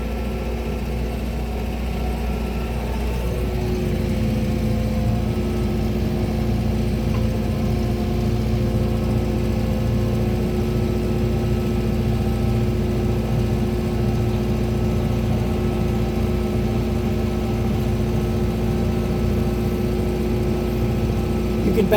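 John Deere tractor at about 1700 RPM pulling a TR3 drag up a gravel hill on a driveway, giving a continuous, loud, even engine drone with a steady hum throughout.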